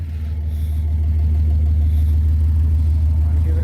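A loud, deep Datsun 280Z engine rumbles steadily up close, its low throaty straight-pipe exhaust drone holding at a high idle without clear rev peaks.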